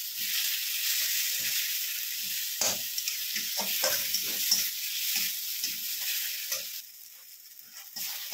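A pan of masala for fish head curry, spiced with cumin and Kashmiri red chilli, hisses and sizzles steadily as a little water goes in, with soft stirring clatters breaking through the constant frying noise.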